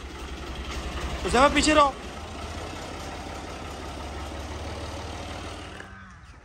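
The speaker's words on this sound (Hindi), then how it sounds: "ट्रैक्टर आज खेतों में जा रहा है इतने दिनों बाद" A tractor engine idles with a low, steady rumble as it sets off for the fields on a village farm in Pakistan; someone speaks briefly early on over the chugging before the engine cuts out at the end.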